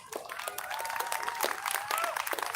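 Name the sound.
crowd applause at a rally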